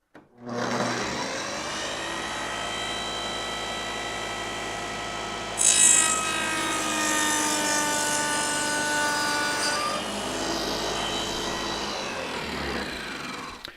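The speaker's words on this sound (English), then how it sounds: "now I can go ahead and cut that rabbet" A table saw fitted with a dado stack cutting a rabbet in wood, a loud continuous whining drone near the mic, rising into a brief harsher bite as the blade meets the board, then running steadily to shutdown.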